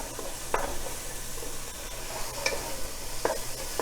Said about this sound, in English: So now I am adding tomato here, chopped tomato, and mix it well.